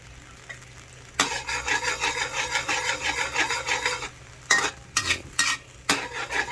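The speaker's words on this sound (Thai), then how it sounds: "เราตั้งกะทินะครับผัดกะทิ ให้หอม" Coconut milk for beef panang curry being stir-fried in a pan, a steady close rasping scrape and sizzle of stirring, followed by a few sharper scraping strokes near the end.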